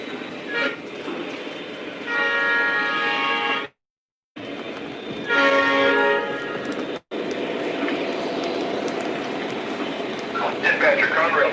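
A Lionel and MTH model train in Conrail livery runs on its track, sounding sustained horn toots with a pause between them over a steady rolling rumble, and voices come and go in the background.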